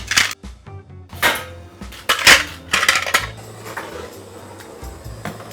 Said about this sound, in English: I'm going to put the shells on to boil.